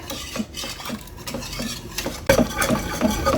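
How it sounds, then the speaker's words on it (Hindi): Milk is whisked little by little into a sauce for pasta and lasagna. A metal whisk clatters and scrapes steadily against the pot, close and fairly loud, and becomes busier in the second half. "थोड़ा थोड़ा करके ऐड करना है, विस्कर पास होना चाहिए आपके"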